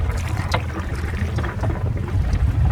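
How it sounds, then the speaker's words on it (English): Engine of a sailing yacht knocked into gear just after the anchor is raised off Great Keppel Island, a low rumbling drone under gusty wind buffeting the microphone, steady and close for a few seconds. "Just going to kick the engine just in gear"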